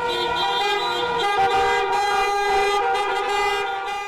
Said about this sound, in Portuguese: O buzinaço pelas ruas centrais de Pato Branco aconteceu por volta do meio-dia desta quarta-feira.